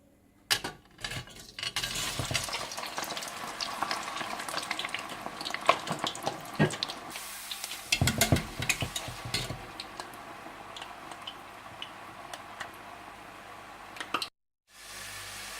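Potatoes deep-fry in oil for Sindhi biryani, a steady sizzle and crackle running throughout, punctuated by metallic utensil clinks and stirring clatter, ending with a brief silence.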